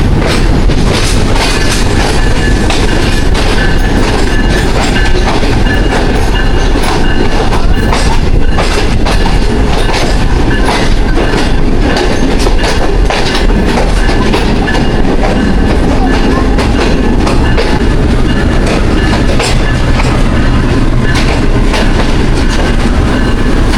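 The Kohat Express passenger train rolls along the rails at Rawalpindi, a loud, sustained rumble with a steady clickety-clack of wheels over rail joints and faint squeals, heard from close by for the whole stretch.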